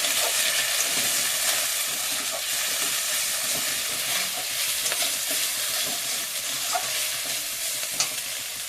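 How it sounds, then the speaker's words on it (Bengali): A spice mix of turmeric and salt is stir-fried in a hot pan, giving a steady close sizzle and hiss with scraping stirs throughout, and no voices. "মশলাটা একটু কষিয়ে নেব"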